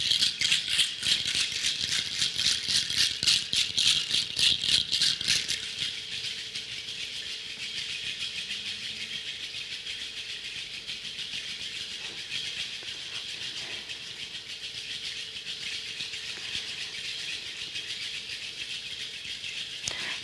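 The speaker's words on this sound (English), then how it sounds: "I'll just rattle" A handheld rattle shaken rapidly in a steady, fast rhythm for about five seconds, bright and close, then stopping and leaving a quiet room hiss with a faint low hum.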